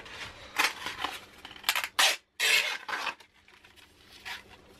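Sandpaper of 150 grit rubbing across a wooden bowl, likely spinning on a lathe, making a series of close, dry rasping strokes with brief pauses between them.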